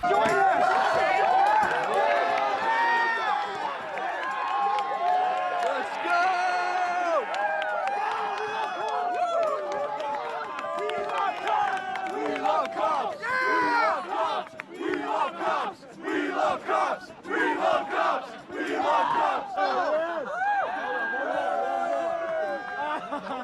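A large concert crowd chants in unison, loud and sustained, its rhythmic shouting rising and falling over a long stretch with voices blending throughout.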